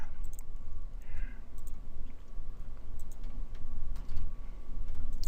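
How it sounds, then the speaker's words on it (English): A computer mouse clicks in quick, irregular bursts of sharp little taps over a steady background hum, close and fairly faint. "Just click stuff around."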